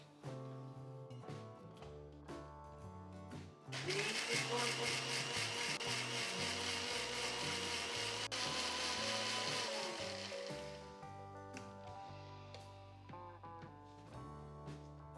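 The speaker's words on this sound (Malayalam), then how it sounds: "നല്ല സ്മൂത്ത് പേസ്റ്റായിട്ട് അരച്ചെടുക്കാം." A mixer grinder whirs loudly for about six seconds, grinding a smooth paste for pacha pulissery, then winds down, with background music playing throughout.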